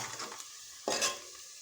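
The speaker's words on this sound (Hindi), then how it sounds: "ये प्याज को भूनेंगे अच्छी तरह" Onions frying in a pan for a vegetable pulao, with a steady soft sizzle, a few light stirring scrapes, and a louder clatter of a spoon against the pan near the end.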